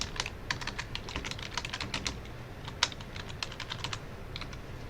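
Rapid, fairly even keystrokes on a computer keyboard as a message is typed, a close, crisp clatter of clicks with a short pause near the end.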